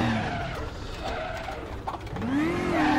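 A race car in the RaceRoom game screeches its tires under hard braking toward a wall, engine droning beneath, then a rising engine whine as it revs at the end.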